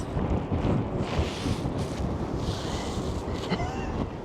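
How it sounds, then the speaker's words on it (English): Strong gusts buffet a microphone outdoors on New York's Brooklyn Bridge, a loud continuous roar and rumble that swells and ebbs across the whole stretch with no clear talk. "That was wind. That was a big wind."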